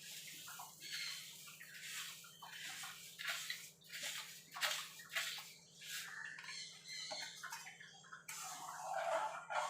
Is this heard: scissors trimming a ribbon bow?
no